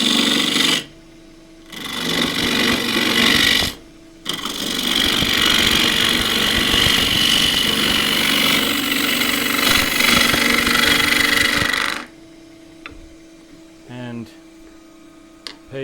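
A wood lathe turning a thin 4-inch bowl of very green photinia at 1650 rpm, a 1/2-inch spindle gouge cutting with loud, rough scraping in long bursts broken by short pauses, then quieter spinning with a little talk at the end.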